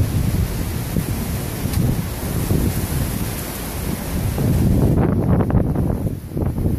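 Strong wind from an early tropical storm buffets the microphone in Noumea, with a constant low rumble and roar, gusting louder toward the end.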